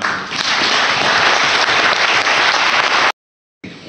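A room full of people applauds a man with loud, dense clapping that holds steady for about three seconds. It then cuts off abruptly into silence before a brief return.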